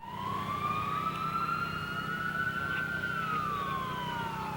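A siren wails steadily, its pitch rising slowly then dipping, loud and continuous against a low engine rumble as a police car passes after missing a sharp turn on the Targa Newfoundland rally stage.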